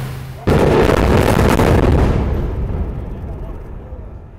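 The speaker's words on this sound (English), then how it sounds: "Want to see explosion?" The demolition of the old bridge over Kentucky Lake sets off one sudden, loud explosive boom that rumbles heavily and then slowly fades over several seconds.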